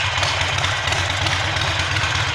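A Harley-Davidson motorcycle engine idles steadily close by, a continuous low throbbing rumble with even pulsing and no change in pace for a couple of seconds, heard alone without any talk.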